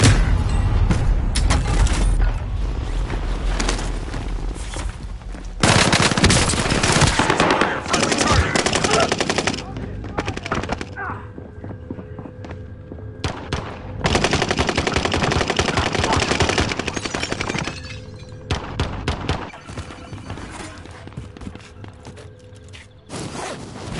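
Video game gunfire during a squad battle, with long bursts of rapid automatic fire alternating with single shots, booms and quieter gaps, loud and close, with occasional game voice lines mixed in.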